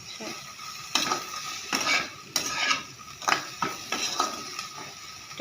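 Paneer dish being stirred in a pan with a few spices and a pinch of sugar, rhythmic scraping and clinking of a spoon against the pan roughly every half second, with a faint sizzle underneath.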